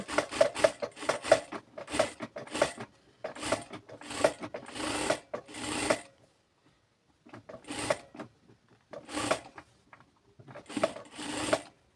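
A sewing machine stitches a kameez in several rapid, close, whirring bursts of fast needle clatter. One long silent pause breaks the runs before stitching starts again, with no speech.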